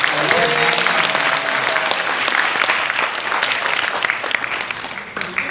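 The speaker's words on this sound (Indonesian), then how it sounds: "Tepuk tangan dulu dong buat" A large audience claps continuously and loudly at a campus talk show, a dense wash of hand claps with a faint voice or tone early on, tapering slightly at the end.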